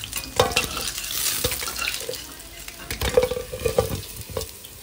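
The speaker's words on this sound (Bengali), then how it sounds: "বাকি যে কটা মাছ আছে সেগুলো আমরা ভাজবো" Fish fries in hot oil, a crackling sizzle with irregular bursts of popping and spatter, moderately loud and close, with occasional stirring and no talk.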